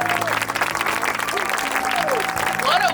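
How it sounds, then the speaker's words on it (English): A crowd at a firefighter training program graduation breaks into steady applause, many hands clapping at once, loud and sustained, with a voice calling out over it. "I think that deserves a round of applause."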